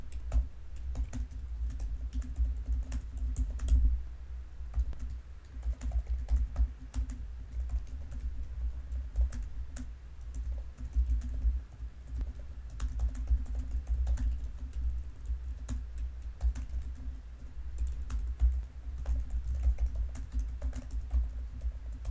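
Someone types on a computer keyboard, a steady stream of quiet key clicks and taps over a low room hum, continuing throughout without speech.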